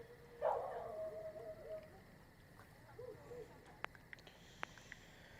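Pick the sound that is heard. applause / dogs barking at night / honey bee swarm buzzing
dogs barking at night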